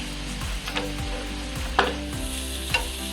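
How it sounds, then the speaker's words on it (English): Garlic and butter sizzle in a frying pan while being stirred, a steady close crackle broken by repeated scraping strokes and a few sharper clinks, with no talk. "Putting the garlics for a little bit, putting the butter now"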